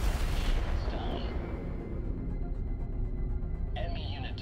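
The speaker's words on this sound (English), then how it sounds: "Do a barrage." Barrage fire in the roguelike deckbuilding game Earthless rolls out as a heavy, booming burst that fades into a low rumble, with a faint electronic tone near the end.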